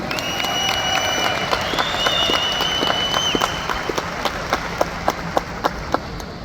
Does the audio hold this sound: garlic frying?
no